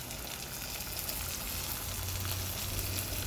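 Chicken frying in oil that has cooled slightly, a dense, steady sizzle that carries at an even level and stays close and fairly loud, with no talk over it.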